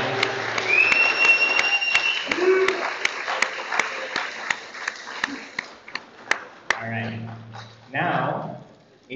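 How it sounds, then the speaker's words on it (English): Audience at a 2023 commencement ceremony giving a round of applause, sparse sharp individual claps with scattered whoops and a sustained whistle, then a voice speaking near the end. "can we get one more round of applause?"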